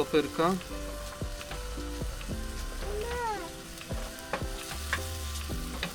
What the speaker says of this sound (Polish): Niech to się troszeczkę podsmaży.